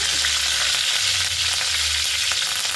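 Curry leaves hit a hot frying pan and crackle loudly, a dense, continuous sizzle up close with faint stirring underneath. No voices are present.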